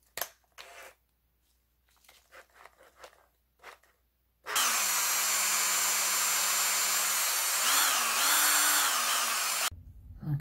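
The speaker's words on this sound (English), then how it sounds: "all I'm going to do is chuck this in a drill" A few soft knocks and handling sounds, then a power drill spinning a crank for polishing whirs loudly and steadily for about five seconds, its pitch shifting slightly before it cuts off.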